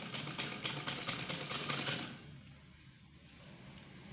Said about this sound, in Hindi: अभी पाइपिंग के नज़दीक सिलाई लगानी है।